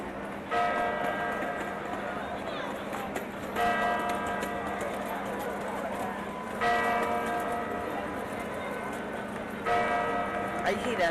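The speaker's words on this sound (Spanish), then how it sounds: "Esto lo hacen acompañado por el repiquetear de las campanas." Church bells peal from the clock tower in Messina, Sicily, in repeated bright bursts of ringing that swell and fade over a constant outdoor crowd murmur and traffic hum.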